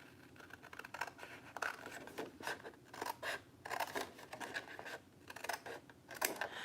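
Scissors snip through paper along a drawn pencil line while making traveler's notebook dividers, a close run of quick crisp cuts and rasping strokes, quiet and with no talking.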